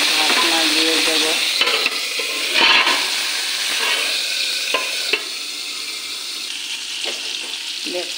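Mango chutney fries in mustard oil in a pan with a steady close sizzle and a few spoon scrapes and stirs.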